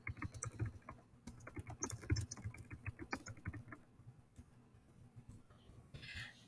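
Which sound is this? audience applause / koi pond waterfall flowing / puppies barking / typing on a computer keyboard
typing on a computer keyboard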